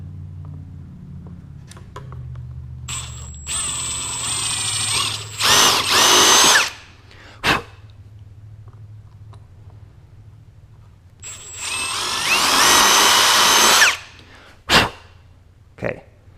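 A power drill bores holes to mount an EnduroPlate on a 2024 Husqvarna FE 501s, two long loud whirring bursts with a few short blips between, separated by quieter stretches.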